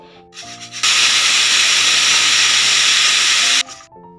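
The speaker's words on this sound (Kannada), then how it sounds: "ನೋಡಿ, 2 ವಿಸಿಲ್ ಆಗಿದೆ. ಈಗ ಪ್ರೆಷರ್ ಎಲ್ಲ ಔಟ್ ಆಗಿದೆ." A pressure cooker of ghee rice lets out a loud, close burst of hissing steam from its whistle that lasts about three seconds, then cuts off abruptly, with faint tonal sounds before and after.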